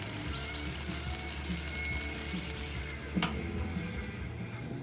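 Marinated pork chops sizzle on a portable grill, a soft, continuous crackling hiss close by with one brief clatter partway through; no one talks.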